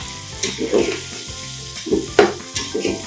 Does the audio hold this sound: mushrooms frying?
yes